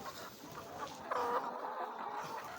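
Laying hens in a poultry farm cluck softly at a moderate distance, a few short calls and a drawn-out cackle standing out over a low, busy background murmur.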